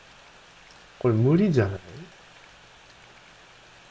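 Rain in the horror video game Ao Oni makes a steady, soft hiss throughout, with a voice briefly speaking over it partway through.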